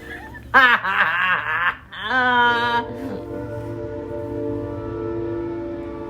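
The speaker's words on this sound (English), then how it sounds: "That was the train." In The Sims, a passing train sounds as a bright, wavering horn or whistle blast with warbling tones, followed by a sustained low rumble of the train rolling past that gradually fades.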